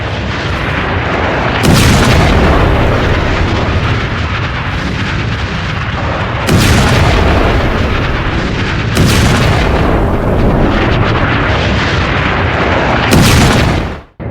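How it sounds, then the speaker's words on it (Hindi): Missile and rocket explosions hitting residential areas in Lebanon: four heavy booms land at intervals, each a sudden loud blast whose rumble rolls out over several seconds amid dense, continuous noise, with no speech. "और इन धमाकों के बाद देखिए जरा, जब ये रिहायशी इलाकों में मिसाइलें गिरती हैं, रॉकेट गिरते हैं"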